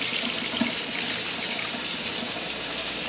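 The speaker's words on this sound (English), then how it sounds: "So there we're just putting 2 quarts of water," Water runs steadily into a pot, two quarts for a yellow split pea and buttercup squash soup. It is a continuous, close, even rushing with no talk over it.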